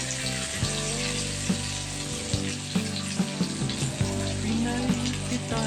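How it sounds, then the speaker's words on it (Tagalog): Onions sautéing in a pan sizzle steadily and loudly, with occasional scraping clicks from stirring, close-up over a constant background hum. "Ilalagay ko na po dito yung aking sibuyas. Haluin lang po natin."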